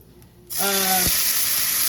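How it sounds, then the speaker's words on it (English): Chicken broth splashes into a very hot skillet after cooking chicken, bursting into a loud, steady sizzle and hiss that carries on without talk. "We're gonna start deglazing this pan a little bit. I'm gonna pour it just a touch"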